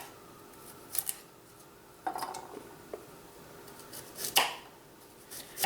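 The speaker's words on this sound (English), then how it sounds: "You don't have to be precise on this, just get them sliced." A knife slicing radishes for pickling, giving a few crisp, separate cutting snaps spread out at an unhurried pace over a quiet room background, with no talking.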